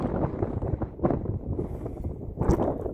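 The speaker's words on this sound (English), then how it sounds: "A lot of wind today." Steady wind buffets the microphone in rough gusts on a mountain approach in Calico Basin, Nevada, with a louder rush near the end.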